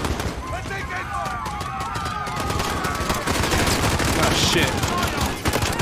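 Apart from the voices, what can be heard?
gunfire in the video game Modern Warfare (2019)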